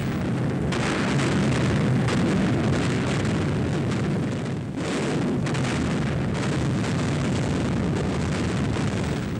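Bombs burst during RAF night raids over Hamburg in July 1943, a dense, continuous rumbling barrage of explosions with one brief lull midway, loud and unbroken throughout.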